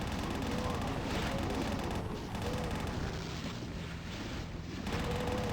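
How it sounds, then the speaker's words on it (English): Chain gun in the DOOM video game firing in a rapid, continuous rattling stream, fairly quiet and steady throughout with dense overlapping shots and no clear pauses. "Like chain gun. Ooh, I like the sound effect."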